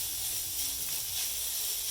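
An appetizer sizzles in a pan as its moisture cooks off, giving a steady, close, bright hiss with no voices.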